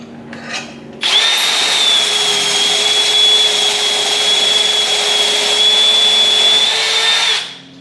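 A power drill starts abruptly and bores about 1.5 inches into the wood of an antique drop leaf table at a constant high whine, then winds down and stops. Close and loud.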